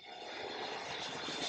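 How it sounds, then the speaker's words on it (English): A fixed-wing airplane passes near an airport in Singapore, its engine drone building from moderate to loud and holding steady throughout, with no talk over it. "Now an airplane is coming, now it's getting a bit noisy."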